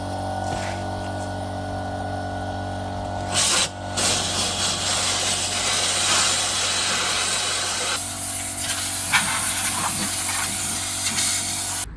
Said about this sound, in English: So shot blaster's back out.